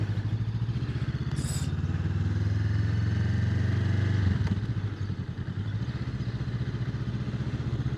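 A 2025 Honda motorcycle cruises along a road, its engine a close, steady low drone with a slight rise and fall in pitch, wind rumble underneath and no talk.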